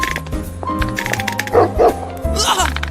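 A dog barks repeatedly in an anime scene, a string of short yaps and bow-wows over other voices and background sound, close and loud.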